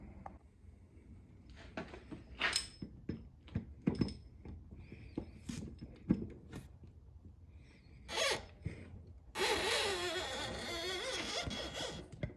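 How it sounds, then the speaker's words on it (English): Cutting disc clearing metal from a rear shock on a 2000 Yamaha YZ250, heard as scattered clicks and scrapes before a loud sustained high grinding burst near the end. "now I'm just going to use this disc and try and cut the bits in between, clear it out"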